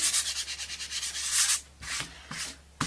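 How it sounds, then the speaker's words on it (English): A sanding disc scrubs rhythmically back and forth in quick strokes, then stops, followed by a few light taps and brushes nearby. "I'm going to take a sanding disc and I'm going to sand"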